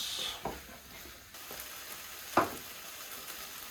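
Ginger sizzling faintly in a pan while being stirred for a curry, with a soft steady fry and a couple of scraping clicks from the spoon.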